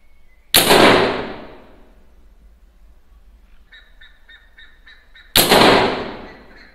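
Two sharp, loud air rifle shots firing Estrela de Prata lead pellets, each a sudden crack with a decaying tail, about five seconds apart, with faint high tones and quiet background between.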